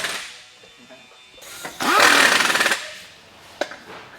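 A power tool tightens a wheel on a truck rear end in a shop: one loud buzzing burst of about a second, a shorter rattle before it and a sharp clank afterward, with no talk.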